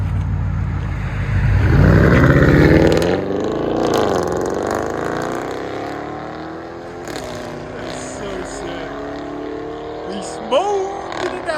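A 2017 Audi S7 with a 4.0L turbo V8 and straight-piped true dual exhaust roars close by in a sharp rev burst, then settles into a gruff idle with a few blips, with voices heard over it.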